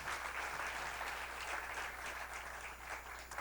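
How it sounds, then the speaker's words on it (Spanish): A church congregation applauds loudly and steadily at a worship service, a dense wash of many hands clapping that holds at an even level throughout. "Aplauda fuerte su presencia"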